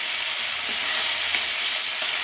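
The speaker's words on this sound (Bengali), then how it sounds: "বেশি কড়া করে ভাজতে হয় না মিডিয়াম মতো ভাজতে হয় মিডিয়ামভাবে ভাজতে হয় এটা" Small, thin gule fish fry in hot oil in a Bengali-style kitchen, giving an even, dense sizzle heard close and constant throughout, with no voices.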